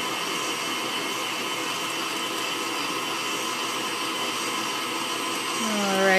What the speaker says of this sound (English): And we're gonna keep on mixing it.